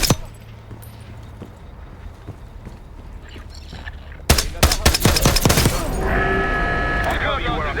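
Rapid bursts of gunfire from a Call of Duty: Black Ops 6 campaign battle crack out loudly in the second half, following quieter background ambience, with a sustained tonal sound layered underneath near the end.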